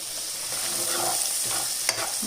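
Loud, close sizzling of chickpeas hitting hot oil as they are tempered, a continuous crackling hiss with a brief stirring scrape near the end.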